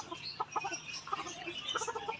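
Chickens being fed, a few soft, close clucks and murmurs over about two seconds, quiet and with no talk.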